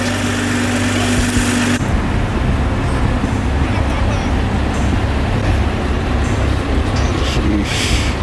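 A BMW M340i fitted with a race downpipe and MST turbo inlets gives a loud, continuous roar that holds steady over several seconds, mixed with road and wind noise.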